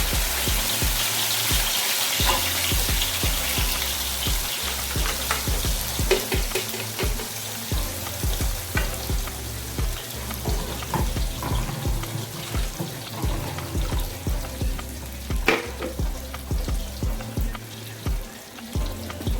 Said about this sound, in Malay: agaknya minyak kita ni dah panas. So mula-mula kita masukkan bahan-bahan yang kita kisar tadi ya.